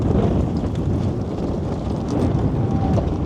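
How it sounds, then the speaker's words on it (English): Wind blows outdoors on an early-morning walk to a Tesco, a continuous loud rushing buffet across the microphone with no pauses. "quite windy at the moment"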